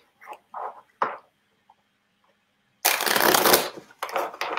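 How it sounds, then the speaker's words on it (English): Playing cards are shuffled close by: a few short riffles and taps, then a long dense burst of rapid flicking and a final quicker riffle. "while you're shuffling"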